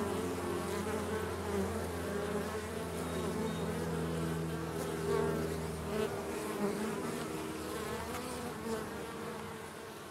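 Honey bees from a large, strong colony buzz steadily at the hive entrance while several guard bees attack a single bee, a dense close drone with no voices.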